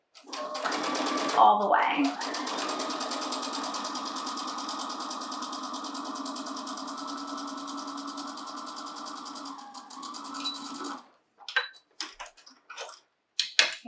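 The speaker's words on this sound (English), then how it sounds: "We'll back tack at the start and sew all the way down." A sewing machine runs steadily for about ten seconds, stitching a fabric face mask from a back tack at the start straight down the seam, then stops; a voice talks briefly over it, with sparse clicks after.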